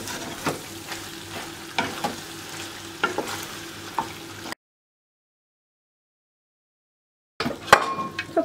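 Creamy chicken pasta with cream and grated kashar cheese simmering in a pan, a soft sizzle with regular spoon scrapes and clinks, interrupted by a gap of silence before stirring resumes.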